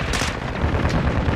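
Shotgun fire in the video game Call of Duty: Modern Warfare II, loud dense blasts with rumbling low end filling the short moment, close and harsh.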